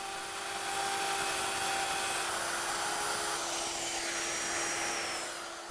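A power tool running in a jig cuts a mortise in wood, giving a loud, continuous whirring roar with a high motor whine that holds steady for several seconds, then eases off slightly at the end.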